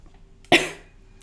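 One sharp, close cough from a sick person, with a hoarse burst that trails off quickly against a quiet indoor background.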